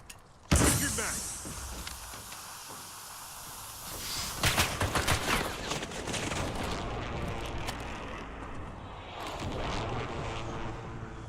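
Weapon magazine swaps in the Warzone video game, mechanical clicks and clatter mixed with game gunfire and effects, starting with a sharp loud burst and continuing as dense busy game audio.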